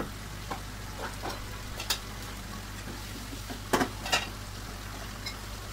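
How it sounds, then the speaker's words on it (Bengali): Soft, steady sizzle of magur catfish sautéing in spice paste in a pan, faint and continuous, with a few light clicks from stirring. "মাছগুলো কষানো হয়ে গিয়েছে"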